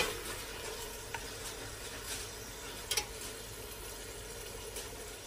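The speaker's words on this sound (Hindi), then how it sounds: "अब हम इसमें टमाटर भी ऐड कर देंगे। और इसे अच्छी तरह भून लेंगे।" Tomatoes frying in a pan for aloo gosht give a steady, close sizzle with soft hissing crackle throughout, plus a couple of faint stirring clicks.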